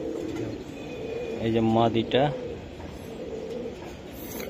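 Racing pigeons, including a hen in a club loft, coo in a low, rolling murmur while someone speaks nearby, his voice rising briefly over the birds.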